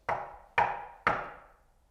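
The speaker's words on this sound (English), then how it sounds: "he knocked loudly 3 times" Three loud, sharp knocks on a big wooden door, evenly spaced about half a second apart, each a hard close strike with a short decaying ring, alone without speech.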